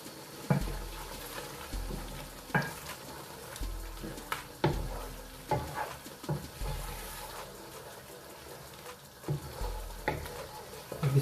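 Chicken korma masala with paprika powder frying in a pan, a soft continuous sizzle broken by periodic stirring scrapes and low thumps, fairly quiet and without speech.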